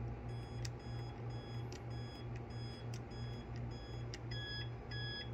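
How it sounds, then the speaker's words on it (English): A dishwasher sounds short electronic beeps while entering its service menu. Brief high tones repeat several times over a steady low hum. "When you hear the triple beep, you know you're in the service menu."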